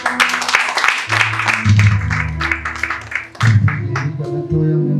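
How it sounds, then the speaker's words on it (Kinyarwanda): Wedding guests clap in a sustained burst of applause, mixed with music and talk that rise and fall throughout. "amashyi menshi cyane mubongere"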